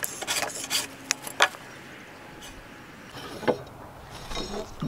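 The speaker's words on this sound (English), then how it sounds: "Just planing that out." A hand plane shaves a hump off a sill log for a dovetail log cabin, several rasping scraping strokes in quick bursts early on, then quieter pauses with a couple more strokes, close and moderately loud.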